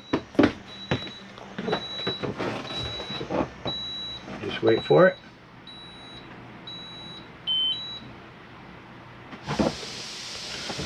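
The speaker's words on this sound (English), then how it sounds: "See all your stabilizing jacks running themselves back up." Stabilizing jacks on a Jayco Precept Prestige 26H motorhome retract while a high, evenly spaced beep repeats about a dozen times over a low motor hum and a person talking, ending with a short hiss of air.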